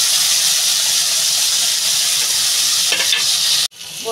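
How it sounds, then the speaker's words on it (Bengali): Sliced bitter gourd (ucche) fries in hot oil with a loud, steady, close sizzle and hiss, a few stirring scrapes near the end, then a sudden cut to quieter frying. "উস্তে ভাজাটা আমার হয়ে গেছে"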